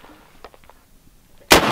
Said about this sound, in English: Shoot one more time like this.